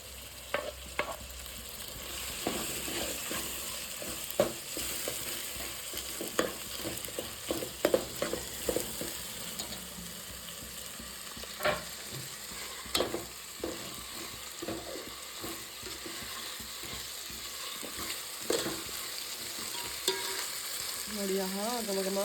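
Chopped tomatoes with turmeric fry in a pan for a restaurant-style chicken masala, a steady close sizzle punctuated by frequent sharp stirring scrapes and clacks of a spoon, with no talking.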